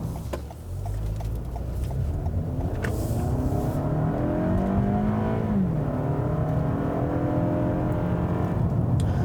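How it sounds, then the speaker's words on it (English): A 2018 Toyota Camry XSE engine revs up steadily as the car accelerates on the road, its pitch climbing and then easing, with a constant road rumble underneath. "let's get out on the road and see how it accelerates"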